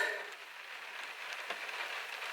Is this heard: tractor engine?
no